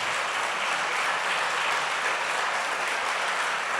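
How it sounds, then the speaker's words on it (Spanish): Steady, dense applause from a church congregation, sustained evenly throughout with no pauses. "Dele un aplauso al Señor con todo su corazón"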